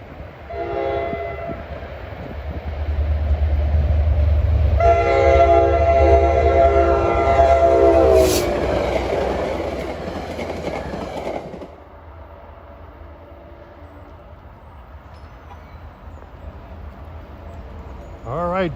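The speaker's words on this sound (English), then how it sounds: "the gates are going down for train 49 from Hoboken to Middletown" NJ Transit train 49 from Hoboken to Middletown passing a grade crossing: a loud, drawn-out horn blast over the rising rumble of the train, which fades to a steady rolling clatter as it goes by.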